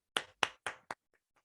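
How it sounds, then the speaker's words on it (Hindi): Four sharp hand claps in a quick, slightly uneven rhythm, close and fairly loud, followed by two much fainter taps before silence, given as applause for an organisation during a Zoom webinar. "तो मैं चाहता हूं एक जोरदार ताली हमारी संस्था के नाम।"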